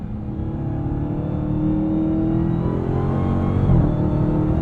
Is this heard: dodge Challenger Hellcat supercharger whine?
yes